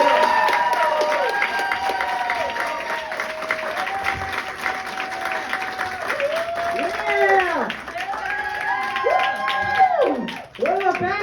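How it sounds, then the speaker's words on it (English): At a North Hollywood comedy club, a crowd claps and cheers loudly for the comic taking the stage, with whoops and shouts riding on top and music with sliding tones under the noise. "Please put your hands together and make some noise for Joe Beltran."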